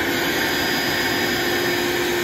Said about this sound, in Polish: Odkurzacz wystartował.